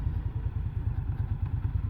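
An Indian Scout Bobber Twenty motorcycle runs on a test ride, its engine a steady, dense low throb with a fast pulsing beat, loud and close throughout with no talking.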